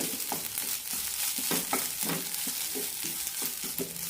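Grated coconut dry-roasting in a pan with a spoon stirring and scraping through it, a steady soft hiss broken by repeated close scraping strokes, no voices.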